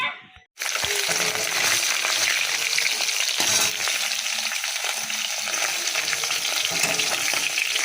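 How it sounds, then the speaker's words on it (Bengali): Hilsa fish fries in a pan with a steady, close, bright sizzle that starts abruptly after a brief silence and holds evenly to the end. "ইলিশ মাছ এনেছিলাম ইলিশ মাছ ভাজতে দিয়েছি"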